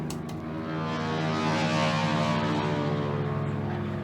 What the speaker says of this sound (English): So there's an air show on today, quite close to us, so that's what that noise was.